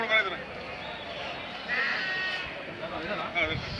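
Lambs bleat repeatedly at a crowded sheep and goat market in Tumakuru, several calls rising over a steady background of people talking.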